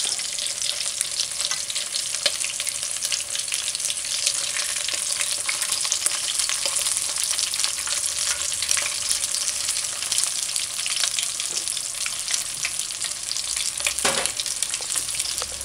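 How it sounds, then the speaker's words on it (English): Steady, close sizzling of king fish slices frying in a pan, a dense crackle that runs unbroken throughout with no voices. "And the frying is getting less."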